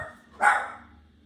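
A single sharp dog bark rings out once, moderately close, then fades into quiet.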